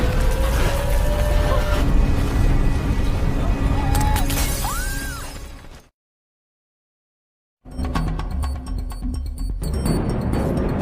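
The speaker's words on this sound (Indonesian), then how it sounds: "tiba-tiba terjadi sebuah gempa yang sangat dahsyat hingga meluluh lantakan kota, gedung-gedung pun hancur lebur berantakan" Dramatic film sound effect of an earthquake collapsing city buildings, with loud sustained crashing, shattering and rumbling debris, a sudden drop to silence midway, then another dense wave of crashing and breaking.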